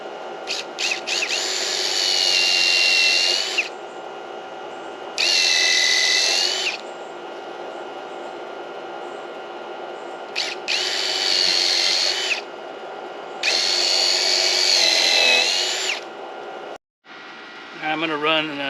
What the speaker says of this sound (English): Alright, so let me drill those holes.